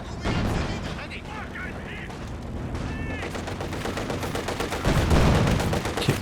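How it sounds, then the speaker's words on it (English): A walking Stuka rocket artillery vehicle fires in Company of Heroes 2, with a steady, dense rattle of rapid launches and battle noise that swells near the end, under a commentator's talk. "Here comes the walking Stuka now, though."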